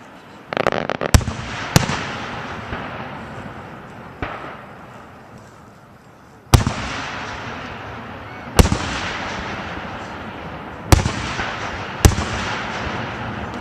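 Fireworks burst in a series of sharp, loud bangs at irregular intervals, each followed by a crackling, rumbling decay, with a steady hiss of background noise between them.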